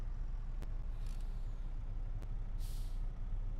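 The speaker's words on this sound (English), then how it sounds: "the air brakes release when you use the parking brake" Steady low engine rumble of a truck in Farming Simulator 25 with two sharp hissing bursts of air brakes releasing as the parking brake is used, then a longer hiss near the end.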